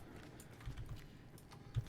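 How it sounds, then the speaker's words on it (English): Metal footsteps in Hunt: Showdown, a few faint, distant clanking steps landing in an uneven pattern under a quiet background. "I hear metal footsteps"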